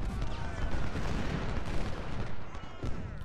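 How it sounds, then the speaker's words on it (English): Cannons fire in the Civil War strategy game Ultimate General: Civil War, a dense, continuous barrage of overlapping booms and crackling shots at even loudness. "Cannons are doing well here."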